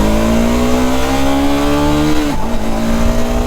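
A 2025 KTM Adventure 390 motorcycle engine revs loudly and steadily, pitch climbing smoothly for about two seconds before a quick dip as the bike shifts once, then holding a strong drone to the end.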